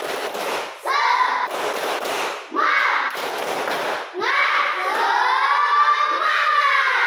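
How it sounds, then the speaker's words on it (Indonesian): Schoolchildren in a classroom perform a rhythmic spirit clap, beating out loud patterned bursts of hand claps broken by short pauses. Their voices chant and shout along toward the end. "Sekarang kita tepuk semangat dulu. Ya, tepuk semangat."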